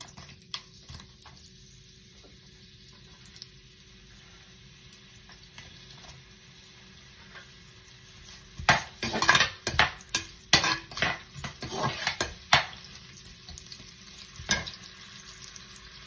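Onions dropped into hot oil with bay leaf, stone flower, cinnamon, cloves and cardamom for lamb biryani, starting as a quiet low simmer, then bursting into loud crackling sizzle with clattering stirs and pan knocks for several seconds.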